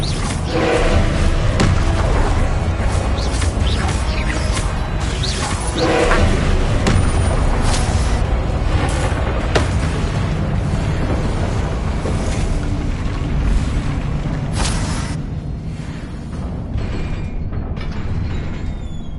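Spell blasts and explosions from the video game Hogwarts Legacy: a dense run of loud booms, thuds and crackling impacts over a continuous rumbling game soundscape, with no talking.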